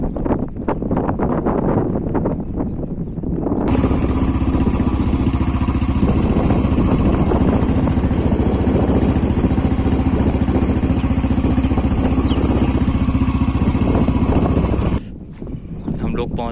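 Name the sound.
motorcycle riding to the field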